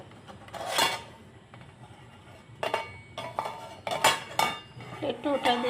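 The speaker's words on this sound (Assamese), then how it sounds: "প্লেটটো উঠাই দি আছোঁ।" A plate is lifted off a cake pan while an Oreo biscuit chocolate cake cooks on a gas flame. Several sharp metallic clanks and scrapes of dish against pan come close together, separated by quieter pauses.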